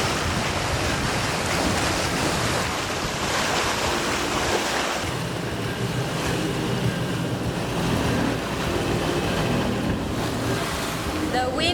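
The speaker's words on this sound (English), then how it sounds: "The wind has decided to blow strong from the direction that we want to go." Strong wind and breaking waves roar steadily around an FPK catamaran under sail and motor, a loud, continuous rush with buffeting wind noise on the microphone and no pauses.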